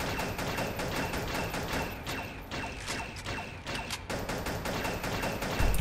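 Rapid gunfire from the video game Pixel Gun rattles continuously throughout, dense overlapping shots with a few heavier bursts near the middle, loud and close with no talking.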